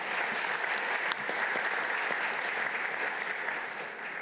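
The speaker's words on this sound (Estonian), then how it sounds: "Teeme meile panelistidele suure aplausi." An audience at a university seminar panel discussion claps for the panelists, dense steady applause lasting the whole stretch without talk.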